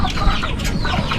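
Pet chickens cluck steadily and close by, with several birds overlapping in a busy, continuous stream of short calls and no talking.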